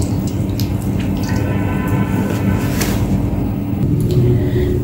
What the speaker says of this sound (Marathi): ही डाळ तांदूळ स्वच्छ 2-3 पाण्याने धुवून घेतली आहे